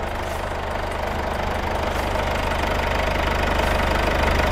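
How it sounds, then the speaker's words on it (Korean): A Mercedes-Benz GLK220 CDI diesel engine idles steadily close by, a constant low rumble with an even, slightly knocking rhythm and no voices. "엔진 소리 일정하네요."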